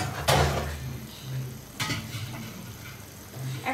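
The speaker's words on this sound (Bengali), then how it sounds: "চার কাপের মতো পানি দিব" Hot water poured into a small hot pan while cooking haleem, two sharp hissing bursts of sizzle followed by quieter bubbling and faint utensil clinks, close up.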